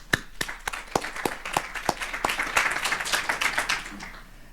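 A symposium audience breaks into applause, opening with a few distinct, sharp claps that quickly build into a fuller, denser round of clapping filling the room.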